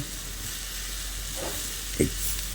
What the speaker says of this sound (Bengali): এবার গরম মশলার ঘিটা দিয়ে আবারও কপির সঙ্গে ভালো করে নেড়ে চেড়ে মিশিয়ে নিলেই